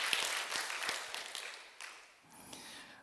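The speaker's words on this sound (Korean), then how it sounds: "저희들 기쁨으로, 감사로 또 환영하는 박수 한번 하도록 하겠습니다" Faint, scattered welcoming applause from a Korean church congregation at a Sunday worship service marking its 40th anniversary, with irregular bursts of hand claps that thin out and briefly pick up again.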